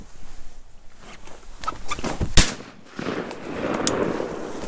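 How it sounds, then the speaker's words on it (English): A shotgun fires once while duck hunting on a foggy morning: a single sharp, loud, close blast that cuts through faint rustling and movement, followed by a duller rumble of ambient noise. "I was just waiting for you to shoot."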